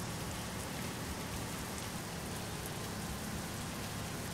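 Heavy rain pours steadily in the 18 Wheels of Steel: American Long Haul truck driving game, a dense, unbroken hiss of drops drumming on surfaces with no gaps or voices.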